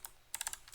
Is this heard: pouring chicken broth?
no